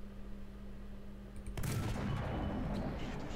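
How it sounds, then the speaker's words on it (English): A tank cannon in War Thunder fires at a Panzer IV, a single loud blast that breaks a quiet engine hum and trails off in a long, rumbling reverberation. "We'll fire at the Panzer IV there, and we'll just aim for the turret."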